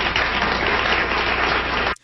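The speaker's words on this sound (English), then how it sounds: "The people are applauding" A studio audience on the Phil Donahue Show in 1979 breaks into dense, steady applause that holds at full strength for about two seconds and then cuts off abruptly.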